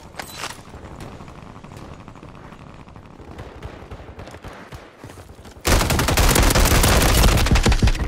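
In a Warzone 3 match, a Core 45 submachine gun fires in a dense, rapid burst that sounds like a fast rattle, close and loud, after a quieter stretch of distant game gunfire and background noise.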